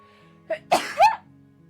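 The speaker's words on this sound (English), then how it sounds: "hold on, I'm gonna sneeze." A single close sneeze, a short sharp intake followed by an explosive burst, then quiet.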